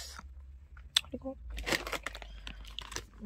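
Crunchy snack food is chewed close to the mouth, with crisp bites and irregular crunching bursts in a quick, uneven rhythm, and a voice briefly heard at times between them.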